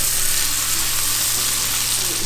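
Mushrooms frying in a pan, a steady loud sizzle with constant crackling hiss close up, uninterrupted throughout, with no talking.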